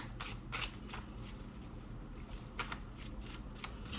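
A deck of oracle cards is shuffled in quick riffling bursts, faint and close, with short pauses between the flurries.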